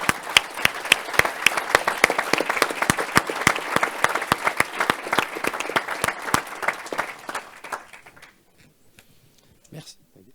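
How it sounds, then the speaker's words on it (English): A conference audience claps together in sustained applause for a panel, dense, fairly close and steady before tapering to a few scattered claps and then near silence. "I would like you to join me in a round of applause to thank them."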